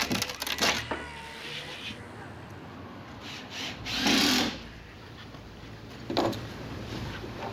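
A power drill drives screws into plywood on a garage roof during a renovation, with short whirring bursts separated by pauses over faint background noise.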